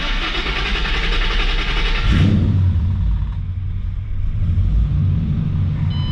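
The 4.6-liter V8 of a 2009 Ford Mustang GT with 131,000 miles idles close by. A loud, hissing wash of noise fades after two seconds, leaving a steady low engine rumble.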